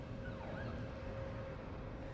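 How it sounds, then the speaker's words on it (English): An ambulance siren wails in the horror video game The Evil Within while the city crumbles, heard faint and distant under a low rumbling background. "an ambulance."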